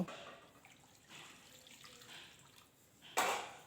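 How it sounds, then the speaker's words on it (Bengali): Water poured into mashed tomato gravy for a pabda and puti fish curry, heard as a faint, soft stream and trickle that ends in a brief louder splash. "এবার দিয়ে দেবো এর ভেতরে পরিমাণ মতো জল, যেটুকু প্রয়োজন সেটুকুই কিন্তু দেব।"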